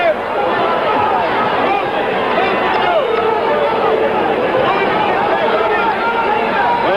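A boxing arena crowd at a 1977 bout keeps up a steady, loud roar and babble of many voices, dense and unbroken for several seconds.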